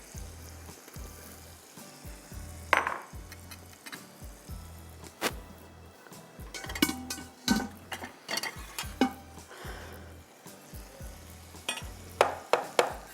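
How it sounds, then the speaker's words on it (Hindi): Masala with ground red onion frying in a pan, soft continuous sizzle broken by repeated scraping clatter of a spoon stirring, close and fairly quiet. "अच्छी तरह मसाला भूनेंगे और हम इसमें ये डालेंगे"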